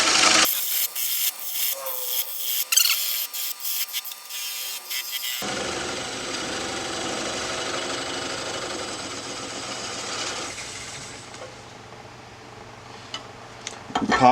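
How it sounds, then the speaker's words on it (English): A 3/8 gouge cuts beech wood on a lathe while turning a live-edge banana bowl, making a raspy, rubbing scrape with rapid ticks at first, then a long, smoother hiss of the tool working the spinning wood. "Let's get out our 3/8 gouge. Slowly work it away."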